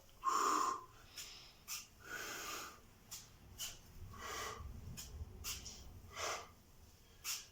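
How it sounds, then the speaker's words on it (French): Heavy rhythmic breathing during a strength and cardio session, a series of close, forceful puffs and wheezy exhales repeating roughly every second, with no speech. "Soufflez bien."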